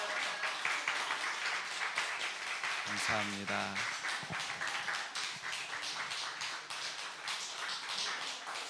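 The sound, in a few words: church congregation applause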